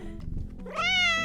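A grumpy house cat lets out a single loud, drawn-out meow that rises and holds, close by, following some low background rustle, with no one talking over it.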